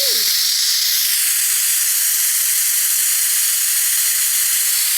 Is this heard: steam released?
yes